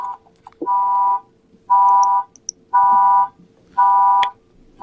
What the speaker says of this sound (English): Is there a reason we're listening to the beep?